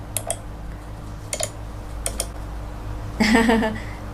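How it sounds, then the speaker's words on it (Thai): Click sound effects from a KineMaster sound effects pack: a handful of short, sharp clicks spaced apart, then a brighter, busier burst of clicking near the end, with faint background hum. "เราจะใช้เสียงคลิกเปลี่ยนฉากใช่ไหม ก็กดคลิก"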